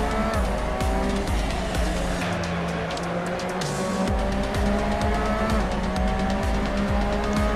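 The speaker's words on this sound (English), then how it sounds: "Hard on the brakes. Down to second gear." A race car under hard braking with the engine blipping down through the gears to second, steady loud engine roar throughout with tire squeal and skidding, heard close from inside or near the car.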